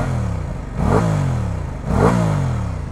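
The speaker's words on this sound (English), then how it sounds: "it's got a longer stroke on it, 660 cc's or so, and it sounds pretty zingy" A 2021 Aprilia RS660 with a 660cc parallel twin revs twice in quick succession, each zingy blip rising sharply then falling back to a rough idle, loud and close.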